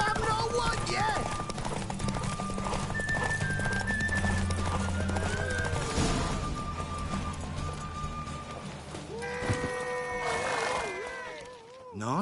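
Horse hooves clip-clopping at speed during a horse race in The Witcher 3, a continuous rapid drumming close up, with a whinny-like cry and brief tonal calls near the end.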